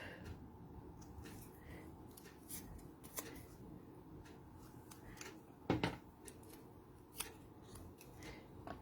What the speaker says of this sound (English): we're going to snip that off